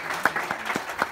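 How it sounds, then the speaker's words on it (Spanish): Brief scattered clapping from an audience at the opening of a blogging conference hosted with a town mayor, a few distinct claps over about a second, moderately close. "sí que voy a pedir un aplauso especial también para Garbiñe"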